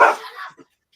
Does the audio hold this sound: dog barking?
yes